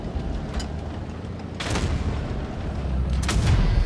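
Two tank cannon shots from World of Tanks Blitz, heavy booming blasts about a second and a half apart rising over a steady low engine rumble.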